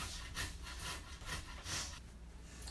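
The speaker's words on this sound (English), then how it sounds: "You want to grate them on the large holes." Peeled potatoes rubbed against the large holes of a box grater for tater tots, a steady run of rasping, scraping strokes at close range with no talking.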